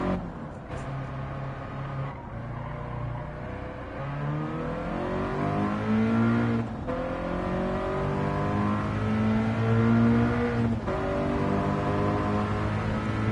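A race car engine in a racing video game revs hard around a track lap, its pitch sweeping steadily upward and dropping back at a few gear shifts. The engine is loud and continuous, with no talk over it.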